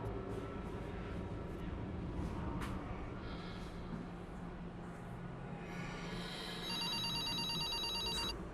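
An electronic telephone rings in the horror video game Cursed Feed, with a tonal ring pattern starting partway through over a low ambient drone. Nobody speaks.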